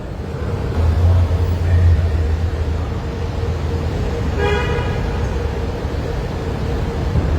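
Loud, continuous street traffic around a crowded conference venue in America, with taxis and cars passing and a clear horn toot sounding about midway through, set against a steady roar of engines.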